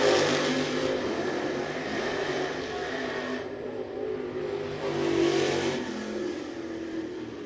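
Race cars run qualifying laps at the Muskingum County Speedway dirt track in Dresden, Ohio, their engines roaring and revving. The sound swells as cars pass near, fades off into the distance and builds again, loud and continuous throughout.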